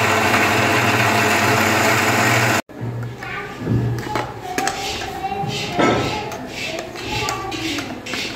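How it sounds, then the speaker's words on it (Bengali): A kitchen mixer grinder whirs loudly and steadily while grinding tomato, fried cashews and onion, then cuts off abruptly, leaving quieter kitchen clatter and intermittent sounds afterward. "প্রথমে টমেটো আর তারপর অল্প করে ভেজে রাখা কাজু আর পেঁয়াজটাকে একসাথে মিক্সিতে বেটে নেওয়া হবে"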